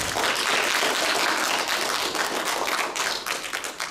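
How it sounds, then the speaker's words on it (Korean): A seated audience at a classic film memorial screening gives dense, sustained applause, loud and close throughout the four seconds and tapering slightly toward the end. "박수 한번."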